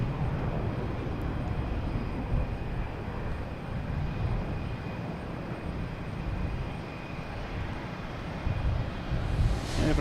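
An American Airlines airliner arriving at Boston Logan from Chicago, a broad, steady, distant roar of jet engines that holds evenly and swells slightly near the end, with no voices.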